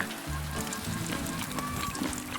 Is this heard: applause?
no